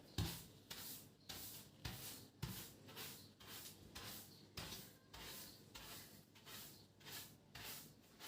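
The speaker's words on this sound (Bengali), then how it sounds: "এই ব্রাশটা দিয়ে ভালোই ঝাড়া যায় ধুলাবালিগুলো" A brush sweeps dust off wooden furniture in steady back-and-forth strokes, about two per second, each a soft close scratchy swish of bristles on wood, with no talk.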